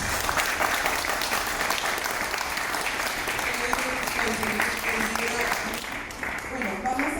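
An audience at a book presentation applauds warmly in a steady wash of clapping, with voices and cheers rising toward the end.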